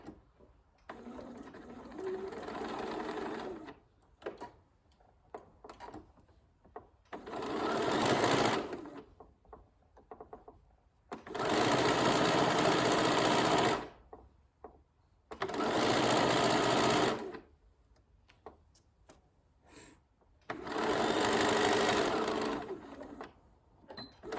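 A sewing machine stitches a zipper pouch in repeated bursts of fast, loud whirring, about five runs of a few seconds each separated by quiet pauses with small handling noises.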